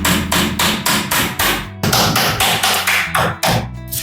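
Hammer blows fix an MDF wall frame to the floor with ST38 fasteners, a rapid series of loud, sharp close strikes in an even rhythm, with a brief pause midway.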